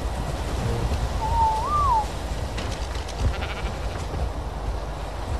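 A single sheep bleats in the video game Ark Survival Evolved Genesis, one wavering mid-pitched cry over a low rumbling game ambience, no talk.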